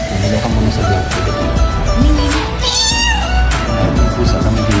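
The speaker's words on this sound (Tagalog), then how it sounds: "May pusa kami dito." A house cat meows repeatedly and loudly up close, its cries rising and falling over a steady background hum, with no speech.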